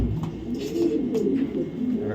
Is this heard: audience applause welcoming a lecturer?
no